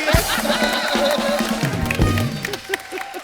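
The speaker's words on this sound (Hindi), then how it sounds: "एक बार जोरदार तालियां भाई साहब के लिए।" A studio audience at The Kapil Sharma comedy show cheers and claps in a brief, loud burst, with whoops and shouting voices mixed into the crowd noise.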